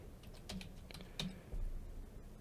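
Fingers type on a computer keyboard, a quick irregular run of soft key taps close by and fairly faint.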